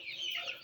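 Young chickens about three weeks old clucking softly, a brief faint chirping call close by, with no talking over it.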